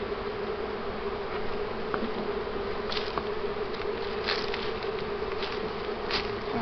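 A steady, close drone of many honeybees buzzing in an open hive, a continuous hum with occasional individual bees zipping past.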